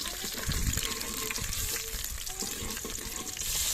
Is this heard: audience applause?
no